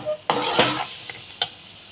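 Sweet kolukattai filling (pooranam) stirred and mixed in a bowl, with a scraping, clattering burst of spoon against the container followed by a brief second scrape, close and fairly loud.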